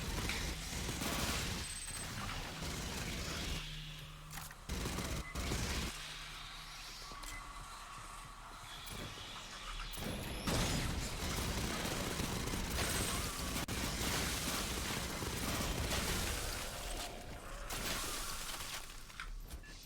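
Heavy weapons firing in the sci-fi shooter Aliens: Fireteam Elite, dense sustained bursts of gunfire mixed with shattering impacts and explosions, loud and continuous throughout.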